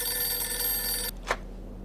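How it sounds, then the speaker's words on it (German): Telephone ringing in the Mafia 2 video game, a steady continuous electronic ring that stops abruptly, followed by a brief click and quiet room tone, with no talking. "wir gehen jetzt einfach mal ans Telefon"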